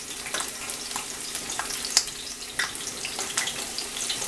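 Green chiles frying in oil with garlic, a close, continuous crackling sizzle with scattered sharp pops and spatters throughout.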